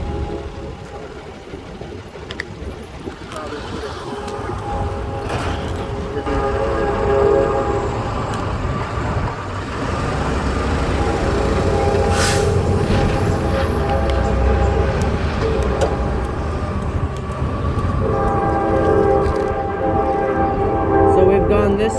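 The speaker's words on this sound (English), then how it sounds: "The train, everyone." A train passes close by during an outdoor bike ride, its wheels and cars rumbling loud and steady for over twenty seconds as the horn sounds, with faint voices underneath.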